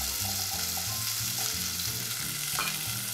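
Celery, white onion and carrot saute in a pan, a steady low sizzling hiss heard close and alone, with faint stirring scrapes over a constant background hum.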